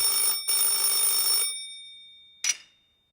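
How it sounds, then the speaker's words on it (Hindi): A telephone bell rings in two loud, close trilling bursts with a short break between them. The second burst fades out with a ringing tail, and one short final jangle follows. "एक दिन रमन के घर पर टेलीफोन की घंटी बजी।"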